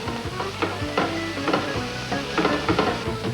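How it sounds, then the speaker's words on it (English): Garlic hits a hot pan of red onion and sizzles steadily up close, with a spoon stirring and scraping through the frying. "I'm going to add my garlic."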